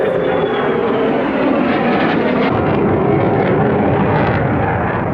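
A loud, continuous roar of an aircraft passing overhead fills the air, broad and rumbling, holding steady throughout with no talking.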